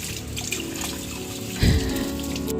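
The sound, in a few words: water poured on house plants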